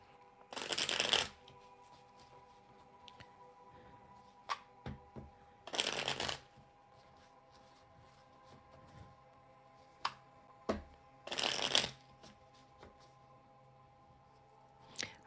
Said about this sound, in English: haven't used my double deck in a little bit, so let's shuffle this up